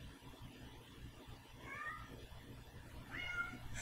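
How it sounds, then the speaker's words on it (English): A pet cat meows twice in a quiet room, short high cries a second or so apart, moderately near but faint over low background noise. "My cat is completely silly."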